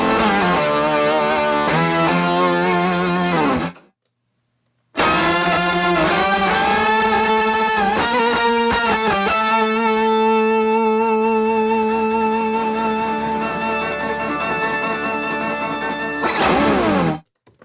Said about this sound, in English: When everything adds up, it sounds like this huge wall of one guitar part though.